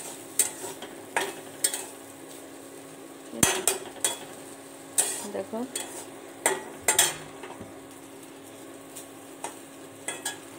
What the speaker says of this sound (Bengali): আর এখানে দেখো মৌটি মাছটা ভাজা হচ্ছে